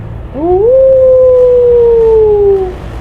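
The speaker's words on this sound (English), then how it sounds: "It was wolves howling at the moon" A single long wolf howl rises quickly, then holds a clear, steady tone for about two seconds before slowly falling away. It is loud and close over a low rumbling background.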